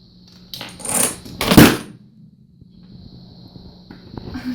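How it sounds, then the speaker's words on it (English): A school-built Rube Goldberg machine with a marble, dominoes and a toy car sets off a couple of sharp clattering rattles and clicks up close, followed by quieter small knocks and movement. "the marble will go down, hit the wheel and axle, hit the dominoes, hit the CD, push the car"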